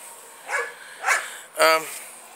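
Several dogs bark outdoors in a garden, three separate loud barks spaced about half a second apart, the last one sharp and ringing, over quiet background.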